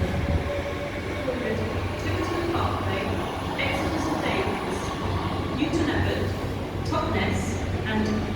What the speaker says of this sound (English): Torbay Express, the 1510 Great Western Railway service from Paignton to London Paddington is just leaving